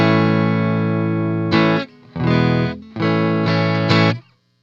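A Mellowcaster electric guitar on its neck pickup plays through a 5-watt Silverface Champ amp with no reverb: a long sustained chord, then a few loud strummed chords with short gaps, dry and close, ending abruptly.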